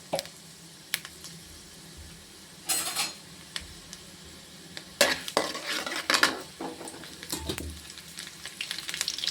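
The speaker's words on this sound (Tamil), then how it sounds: "அதுக்கு நல்லெண்ணெய் ஊற்றி வச்சுருக்கோம். இப்போ உளுந்தம்பருப்பு போடுவோம்." Urad dal frying in sesame oil in a pan, with a steady low sizzle broken by several louder bursts of stirring and scraping from a spoon against the metal, close and with no talk.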